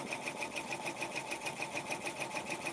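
An embroidery machine stitches a design onto a kids jacket, giving a fast, steady, loud mechanical whir with evenly pulsing needle strokes that repeat in an unbroken rhythm.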